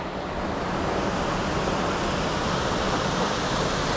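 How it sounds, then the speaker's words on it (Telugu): Steady, dense rushing water fills the whole stretch, a constant broadband roar without breaks, from Jogini waterfall near Manali, close by. "ఇక్కడ నుంచి వాటర్ ఫాల్స్ అవుతున్నాయి"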